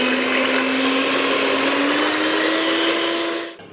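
An electric mixer beats eggs with a pinch of salt for a Hungarian three-layer somloi sponge. Its loud, steady motor whine holds a constant pitch and then cuts off at the end, with no talk.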